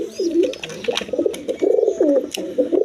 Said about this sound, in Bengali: দেখেন গররা কবুতর